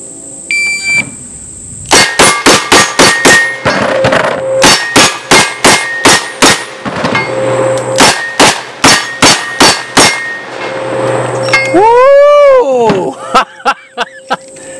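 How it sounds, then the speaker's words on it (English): Rapid strings of sharp, loud gunshots from a Smith & Wesson Magnum revolver, fired in quick bursts with brief pauses between strings, plus a few electronic timer beeps and a rising chirp near the end. "I don't know if you noticed the revolvers I was shooting."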